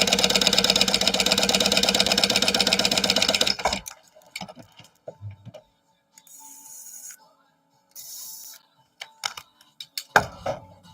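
A sewing machine runs fast and steady while basting the layers of a project bag together, a loud even stitching whir that stops after about four seconds, followed by faint handling clicks and rustles.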